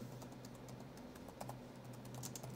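A laptop keyboard is typed on during a Ryzen 5 laptop gaming test, with soft, quick key clicks over a steady low electrical hum, faint and close, with no speech.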